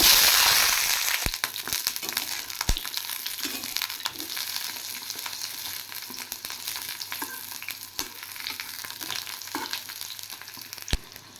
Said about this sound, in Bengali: বেগুন ভাজার জন্য আমি দিয়ে দেব ঘি, আর এটা ঘি দিয়েই ভাজতে হবে